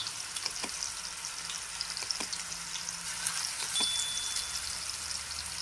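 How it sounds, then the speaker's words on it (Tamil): Sliced brinjal and curry leaves fry in hot oil in a Virudhunagar-style ennai kathirikaai, giving a soft, steady sizzle with occasional crackles and pops, close but fairly quiet, and no voices. "இந்த கருவேப்பிலையும் அந்த கத்திரிக்காயோட சேர்ந்து பொரிஞ்சு நல்லா வாசனையா நல்லா இருக்கும்"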